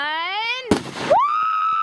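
Fireworks being lit and going off outdoors: a whistling, rising tone breaks into a loud crackling burst, followed by another steady whistle that trails on afterward.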